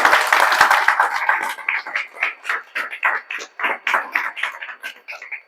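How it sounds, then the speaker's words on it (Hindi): An audience at a coaching institute's results celebration claps, starting as dense applause that thins into scattered, uneven hand claps fading toward the end, with no talking. "इसके लिए जोरदार ताली आप लोग बजा दीजिए।"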